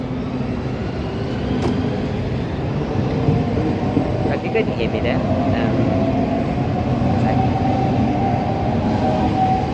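A Class 395 electric passenger train pulls away from Sittingbourne station with a steady rising hum and rumble of wheels on rails, while a person speaks briefly over it.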